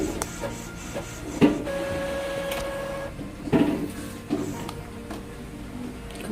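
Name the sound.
Epson printer printing a test page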